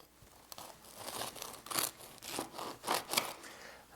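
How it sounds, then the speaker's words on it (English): Crisp crackling and tearing as a crusty traditional Italian loaf is pulled apart, several crunchy bursts close up over about four seconds. "Hopefully you could hear how crunchy that crust is."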